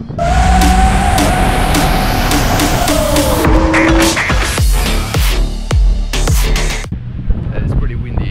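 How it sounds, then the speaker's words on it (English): Drift cars drifting at an event: a loud engine wail rising and falling as the car slides, followed by bursts of tire screech and revving close by, with wind gusting across the microphone. "So this is exactly what we're here for, the drifting of the cars."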